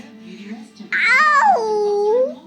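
A young child imitates a cat with a single drawn-out, wavering meow-like cry, heard close and loud after a moment of soft babble.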